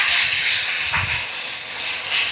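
Soaked minced soya chunks hit a hot pan for a soya mince and green peas kurma, giving a loud, steady hissing sizzle that swells and eases close by, with no talking.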